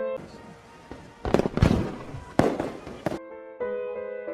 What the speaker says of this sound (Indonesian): sekelompok remaja sedang menikmati kembang api di pinggir pantai